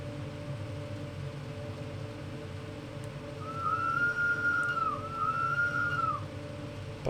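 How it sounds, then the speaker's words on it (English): The Bernina Express train whistle in Train Sim World 5 sounds as two shrill, sustained blasts over a steady rumble of the train rolling in rain. "The whistle on this is a bit shrill, shall we say."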